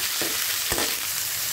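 Onions and three green chilies sizzle steadily in hot oil in a pot, a close, constant frying hiss with a brief stirring scrape partway through.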